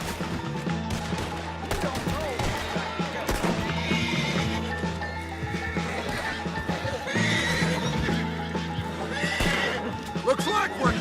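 In Red Dead Redemption 2, a horse whinnies and its hooves clip-clop among in-game ambience and some distant gunfire, with dialogue voices running over much of it.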